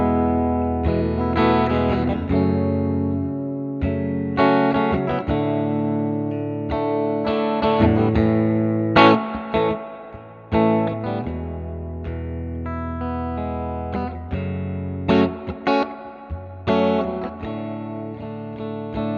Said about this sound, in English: Just to demonstrate what the reverb sounds like all the way up.